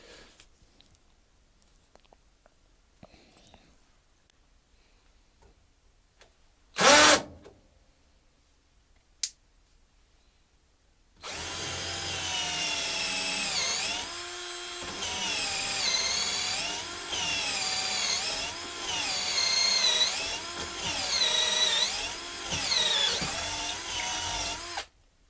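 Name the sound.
Raitool 48VF cordless drill drilling wood with 10mm bit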